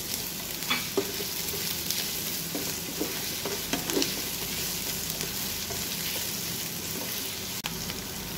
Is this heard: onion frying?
yes